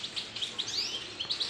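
Small white birds chirping inside a bird shop, bright repeated tweets and short calls from several birds overlapping close by, with no speech.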